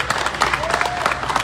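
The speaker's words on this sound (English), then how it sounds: "let's have a round of applause for Preservation New Jersey for putting this list together" An audience applauds at a historic-preservation announcement event, a brief dense patter of many hands clapping throughout, with a hint of crowd murmur.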